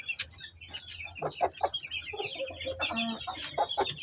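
A Gilmore gamefowl hen clucks in short repeated bursts while her chicks peep and chirp around her in a backyard, close and lively, with no talk.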